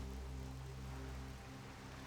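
Steady, quiet rain from World of Warcraft's weather effect, a constant soft hiss of falling drops with a faint low drone beneath, unbroken and without talk.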